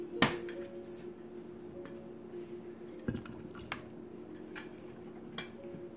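Potatoes being added to a crock pot with salmon and vegetables, heard as a few soft, distinct thuds and wet plops spaced apart against a quiet kitchen hum.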